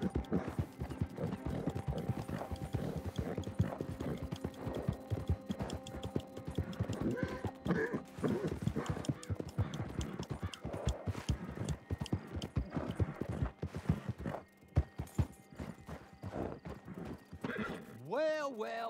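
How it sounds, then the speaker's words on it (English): Galloping horse in the Red Dead Online game, with steady clip-clop hoofbeats running throughout and a loud whinny near the end, under a dense game soundtrack and some character dialogue. "Get that horse hidden away, Clive, and ready to move out as soon as we can"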